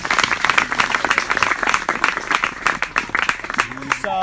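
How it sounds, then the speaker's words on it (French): Congregation at an outdoor sermon applauds for Jesus with brisk, loud clapping in uneven bursts that continues throughout, and a voice breaks in briefly at the end. "Applaudissez pour Jésus."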